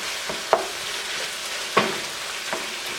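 A chicken and wild rice casserole mixture with about two tablespoons of Dijon mustard is stirred in a pan, with a few distinct scraping strokes over a soft steady sizzle.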